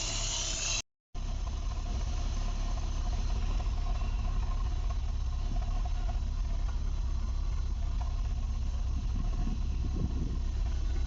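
A freshly rebuilt car engine runs steadily after its first start, a continuous low rumble with broadband hiss that holds at even loudness, briefly cut by a short dropout near the start; no talk over it.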